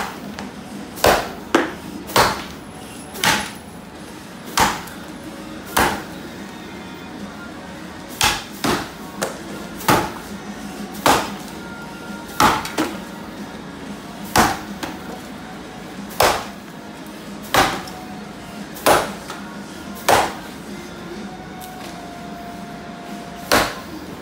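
A hardwood axe chops into tulip wood outdoors, sharp distinct strikes repeating at irregular intervals, roughly one to two seconds apart, over a quiet background.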